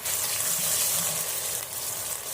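Saag greens tipped into hot sizzling masala in a home kitchen, a loud steady frying hiss close up with no talk.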